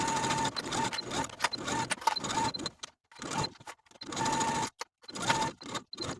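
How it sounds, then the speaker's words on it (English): A sewing machine runs in bursts, stitching the side seams and pockets of an elastic-waist drawstring skirt with side slits. Several loud runs of steady whirring are separated by brief stops, with no talking. "Do this sewing for both of your pockets and side seams."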